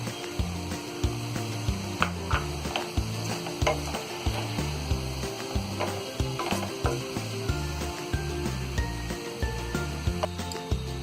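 Tomatoes dropped into a pan of potatoes and peas frying for a dry aloo matar sabji, giving a steady close sizzle broken by repeated stirring scrapes and soft knocks, with no talking.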